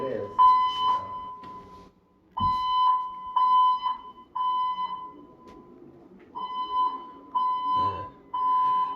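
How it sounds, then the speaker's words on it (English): A building fire alarm going off at night in a residential building, sounding as loud repeating electronic tones in bursts with short gaps, while people talk over it. "they pull the alarm at 2:22 in the morning"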